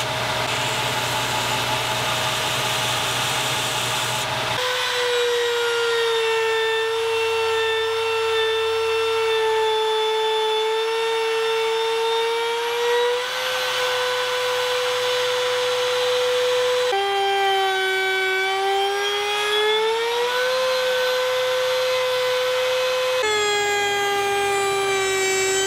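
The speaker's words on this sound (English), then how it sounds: "I'll just clean up those edges on the belt grinder" Belt grinder cleaning up the cut edges of a roughly 12-inch workpiece for a paracord jig, a loud, steady tonal whine running continuously, its pitch shifting slightly as the piece is pressed and repositioned against the belt.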